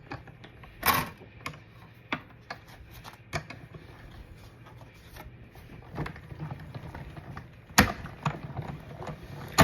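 Die-cutting machine rolling a square die through, with irregular clicks, clunks and mechanical rattles against quiet background, a few louder knocks standing out.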